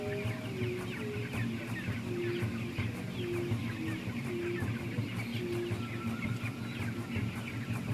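Chickens cluck and chatter continuously in a busy coop, with a rooster-like call now and then over a low background hum.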